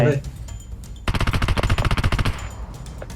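A loud burst of automatic rifle fire in PUBG Mobile on the Livik map, about a dozen quick, evenly spaced shots in one sustained string, after a moment of a voice and quieter game noise.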